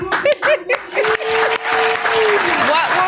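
Audience applause during a live radio-style academic show rises beneath loud, close talking and some laughter, becoming a steady broadband clatter for the rest of the clip.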